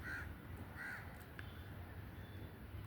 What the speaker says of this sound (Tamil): காக்காவோட அரிசி சாப்பிட ஆரம்பிச்சிருச்சு.